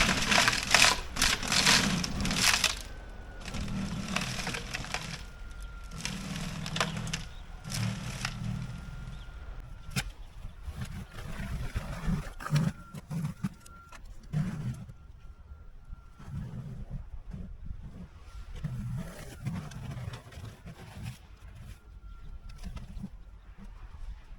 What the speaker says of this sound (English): You heard me try and go across that patch of gravel right there, and I was throwing more rocks and snow.